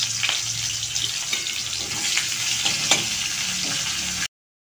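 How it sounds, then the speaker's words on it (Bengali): Sliced onions frying in hot oil in a pan for chicken biryani, a continuous dense sizzle and crackle close up with occasional stirring clinks, cutting off abruptly near the end. "এবার আরও কিছুটা তেল দিয়ে বেরেস্তা করার জন্য কয়েকটা পেঁয়াজ ভেজে তুলে রাখলাম।"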